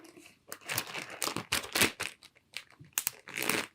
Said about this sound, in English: we'll put it in a plastic bag